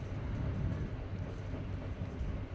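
Rain and gusting wind from an unseasonal storm over farmland make a steady, heavy rumble with a deep low roar and no voices.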